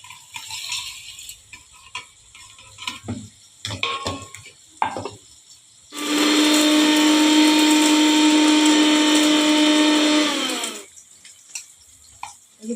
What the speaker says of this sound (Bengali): আমি এবারে গুঁড়ো করে নেব।